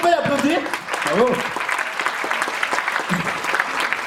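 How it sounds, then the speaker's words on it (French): An audience applauds the winner of a talent show evening in Tours, a steady wash of clapping under an excited voice speaking over the start. "Allez, vous pouvez l'applaudir."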